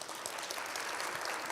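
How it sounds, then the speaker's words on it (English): Audience applause for Mayor Benjamin at a women's summit keynote, a dense, steady patter of many hands clapping, fairly faint and distant throughout the brief burst. "If we can give him another round of applause."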